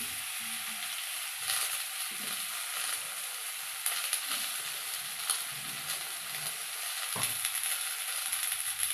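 Finely chopped onion frying in oil for a sour tomato, potato and catla fish curry makes a bright, continuous sizzle, close and even, broken by occasional scrapes and clinks of a stirring spoon.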